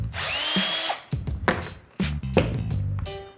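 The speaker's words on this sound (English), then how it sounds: "take your driver with a 1/2 inch socket on it and remove the male coupling." A power driver fitted with a 1/2 inch socket whirs and stops in several loud, close bursts while removing the male coupling from a DiveAlert horn, with clunks between the short runs.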